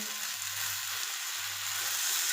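Mackerel masala fry, the fish coated in rice rava, sizzling in a pan with a steady, close hiss throughout, and a faint low hum that comes and goes underneath.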